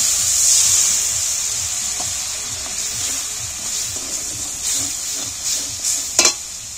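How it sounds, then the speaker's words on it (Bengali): Salt and spices are stirred and fried into a spiced gravy in a pan for steamed egg curry, giving a steady close hiss and sizzle with occasional soft utensil scrapes and no talk. "এইবার আমি নুন মশলা সব কিছু একটু আরও একটু নেড়ে চেড়ে ভেজে নেব।"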